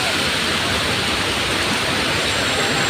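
Heavy rain pours in a steady, loud, dense hiss with no breaks, recorded close by while waiting for a shuttle bus during a dark, stormy downpour.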